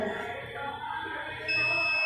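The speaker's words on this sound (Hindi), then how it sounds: "यहाँ पे बीप साउंड आ चुका है, यानी कि ये भी हेडफोन हमारा सही है।" A thin, steady electronic beep starts partway through after headphones are plugged into a device and holds over a constant low background hum.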